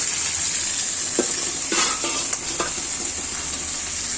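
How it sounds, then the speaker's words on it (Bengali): Rui fish pieces coated with black cumin, ginger and cumin frying in a pan give a steady close sizzle, broken by a few stirring scrapes and clinks. "মাছগুলো ভেজে নিচ্ছি"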